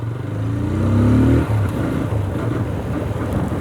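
TVS Apache 160 2V motorcycle engine cruising steadily in fifth gear on a highway, a continuous low drone with a brief throttle swell early on, close and fairly loud with no talk.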